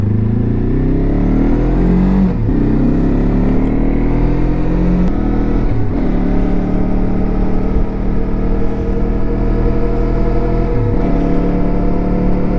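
A Lifan KPT 400cc dual-sport motorcycle on a ride, its engine droning steadily and close with shifting pitch as it accelerates and eases off, rising and falling through several gear changes with no talk.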